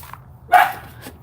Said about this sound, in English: They just come out and bark right beside your microphone.